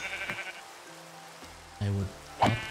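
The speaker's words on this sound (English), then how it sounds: "Look at that, so many sheep." Sheep in Minecraft bleat twice in quick succession, close and fairly loud, while a voice speaks.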